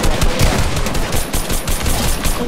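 Rapid automatic fire from a drum gun in the Fortnite video game, a dense continuous burst of shots lasting throughout, loud and close with no talking over it.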